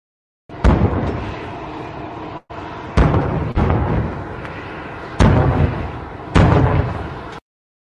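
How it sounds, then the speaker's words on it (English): Cannons fired as a ceremonial salute as Trump arrives on Air Force One, heard as a played recording: about five loud, booming blasts at irregular intervals of a second or two, each with a rumbling tail. "that is audio of cannons being fired off upon Trump touching down and descending the staircase from Air Force One"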